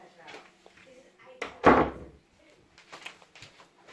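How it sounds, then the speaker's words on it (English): An indoor door pushed shut with one solid thud, amid quiet shuffling and a voice speaking. "let me just shut this door."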